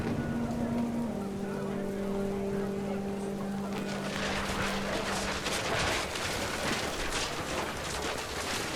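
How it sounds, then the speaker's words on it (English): Heavy rain in the video game What Remains of Edith Finch, a dense hiss of falling water that swells louder midway, with sustained tonal music notes early on beneath it. "The rain came down in buckets then"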